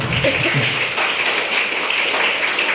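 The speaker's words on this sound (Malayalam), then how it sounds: "ആറ് ടീമുകൾക്ക് വേണ്ടി ഒന്ന് കൈയടിച്ചാൽ കൊള്ളാം" Audience applause for six drama teams at a district school arts festival Sanskrit play competition, a steady broad wash of clapping from a crowd that fills the whole clip at even loudness.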